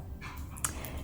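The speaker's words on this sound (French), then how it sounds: "Je suis vraiment désolée pour le chien qui aboie." A dog barks faintly in the background of an indoor room, one brief, muffled yelp under a steady low hum.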